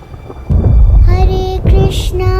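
Thunderstorm effect with wind and rain for a stage drama of Lord Narsimha's appearance, a low rumbling roar swelling in loud and steady under a sustained musical drone with tonal bell-like notes.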